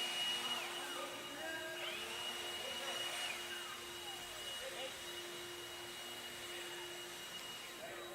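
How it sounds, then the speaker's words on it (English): Leaf blowers clearing debris off an RC race track, a steady whooshing roar held at a constant level throughout, heard at a moderate distance with no talking. "Marshalls, grab your blowers. Start blowing off your areas."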